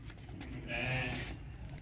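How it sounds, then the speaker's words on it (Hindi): Healthy male goat giving a single short bleat, faint and brief, rising out of quiet background murmur. "ये देखें खाता पीता भागता दौड़ता सेहतमंद बकरा है।"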